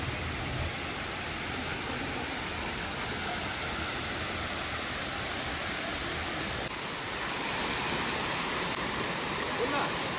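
A waterfall at Rock Garden, Chandigarh, gives a steady, loud broadband rush of falling water that fills the whole stretch without pause.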